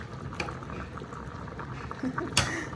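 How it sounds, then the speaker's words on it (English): Full-fat canned coconut milk goes into a pot of sweet potato and chickpea curry. A faint, bubbling liquid gurgle and splashing ripple along quietly, ending with a brief sharper splash. "we're going to add a can of coconut milk, and you want the full-fat kind"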